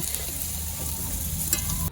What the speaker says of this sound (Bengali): এরপর আমি এখানে জিরে দিয়ে দিচ্ছি, এরপর দিয়ে দিচ্ছি পেঁয়াজ কুচি